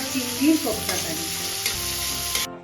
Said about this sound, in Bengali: সেই ভাজা চিংড়িগুলোকে এর মধ্যে দিয়ে আবার ভালোভাবে নেড়ে চেড়ে নিচ্ছে